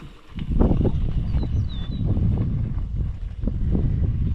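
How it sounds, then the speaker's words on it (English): Strong wind buffets a gravel cyclist riding in Kansas, a loud continuous rumbling roar with gusty surges across the microphone throughout. "If you think the wind is bad where you're at, Kansas has you beat."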